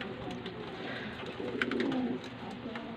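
Pigeons coo softly nearby, with a short burst of throaty calls in the middle over a continuous murmur of outdoor background noise.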